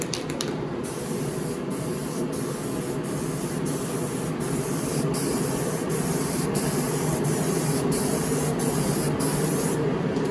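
Spray can laying a light base coat of gold metal flake paint on a car, a continuous close hiss held for about ten seconds with brief clicky breaks at the start and end.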